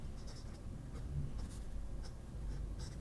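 An Aurora Optima fountain pen with a flex nib writes on paper in a soft, continuous scratching, with faint stroke-by-stroke rhythm, heard up close and alone.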